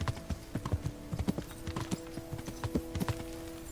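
Horse hooves clip-clop at a steady walking rhythm in the medieval video game Kingdom Come: Deliverance, a close, even series of soft thuds over a faint steady background hum, with no talking.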